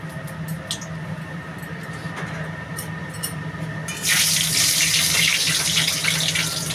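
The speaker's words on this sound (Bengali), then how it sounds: "জল আছে খুন্তিতে, ওই জন্য ছ্যাঁচ করছে।" Dried red chillies hit hot oil for a tempering, and water clinging to the spatula sets off a sudden loud, crackling sizzle partway through that keeps hissing steadily after a quieter stretch of low kitchen hum.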